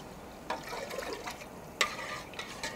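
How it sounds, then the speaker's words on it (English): White wine poured into a pan of browning onions, chili and garlic gives a soft, close hiss and bubbling with a few sharp spits and splashes over nearly three seconds. "I'm going to now add my white wine."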